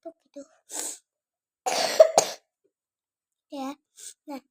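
A sick child with a cold and fever coughs in several short, sharp bursts close by, with quiet pauses between the coughs.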